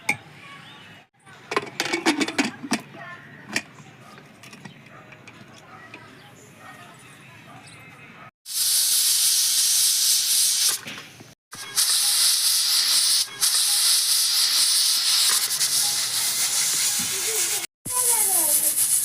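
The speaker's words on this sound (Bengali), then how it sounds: "তিন চারটা সিটি মারা হয়ে গেছে এখন আমি প্রেশার কুকারটা নামাই" Loud, sustained steam hissing blasts out in long bursts with brief breaks from a pressure cooker cooking cockerel chicken, preceded by scattered clattering and faint children's voices in the background.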